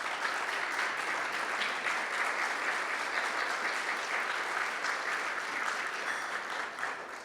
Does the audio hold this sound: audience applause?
yes